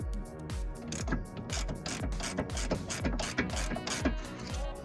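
Rapid metallic ratcheting from a wrench tightening a coilover nut with a 17 mm socket and 5 mm Allen key on a Pedders Extreme coilover for a Pontiac GTO, in quick repeated clicking bursts, close and steady throughout.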